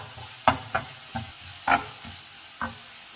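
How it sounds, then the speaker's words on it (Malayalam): Crushed red chillies and shallots fry in hot oil for a bean stir-fry, with several short scraping stirs of a spoon against the pan over a low, steady sizzle, heard close with no talking. "മുറിച്ച് വെച്ചിരിക്കുന്ന ചുവന്ന മുളക് ചേർക്കാം."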